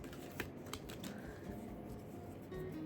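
Tarot cards being shuffled by hand give a run of papery riffles and soft flicks, close and fairly quiet, with a few sharper snaps near the start.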